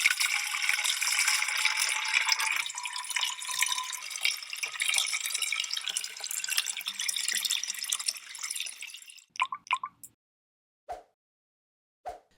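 Clean water running from a sailboat's water maker, a steady hissing splash of flowing water for about nine seconds that cuts off abruptly, followed by a few scattered drips and small clinks in near silence.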